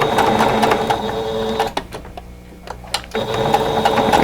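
A sewing machine stitching a fabric quilt block runs in steady fast mechanical whirring, stops briefly for a near-quiet pause with a few clicks, then starts stitching again.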